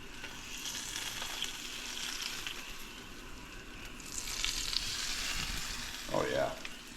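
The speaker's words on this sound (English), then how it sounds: "Do a little butter pour over." Butter is poured over a pan-fried fish fillet from a spearfishing catch, and the fat sizzles and crackles steadily. The frying hiss grows briefly louder as the butter hits the hot pan, with a faint voice in the background.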